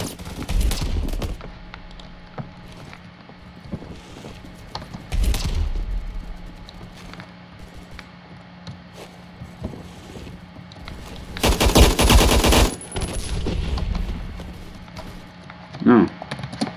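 Gunfire from the online shooter Phantom Forces, with an AUG HBAR in use: sharp bursts and rapid volleys break out in clusters several seconds apart over steady background game noise, loudest near the end, with a voice talking in between.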